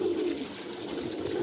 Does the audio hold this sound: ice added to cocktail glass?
no